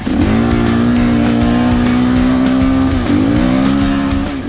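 A truck drives at 130 km/h over sand, its engine roaring loud and steady with a strong droning tone that dips briefly as the revs shift, then climbs again, close and continuous.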